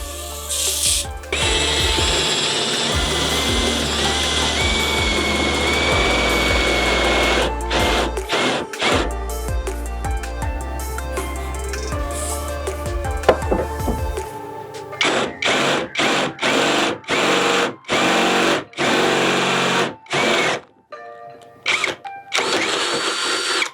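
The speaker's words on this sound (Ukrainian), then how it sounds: "тепер перевіримо 13 е, мм сверло" A GRAND DA-20/13UBL Pro cordless drill bores with a 13 mm bit, a loud close motor whine running continuously at first, then breaking into a series of short stop-start bursts with brief silences between.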